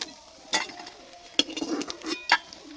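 Small puti fish frying in oil in a pan, low sizzling broken by a few sharp clinks and scrapes of a utensil moving the fish.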